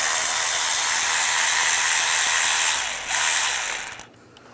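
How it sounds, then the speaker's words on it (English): A hand ratchet with an 8mm socket spins rapidly on the alternator wire nut of a 1999–2005 Volkswagen Jetta, a loud, dense, continuous clicking that slows briefly and then stops abruptly. "we're going to take this nut out right here using an 8mm socket"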